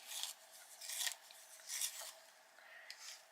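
A fairy floss pink coloured pencil being sharpened, giving several close, quiet bursts of dry rasping and scraping that come and go with short pauses between turns.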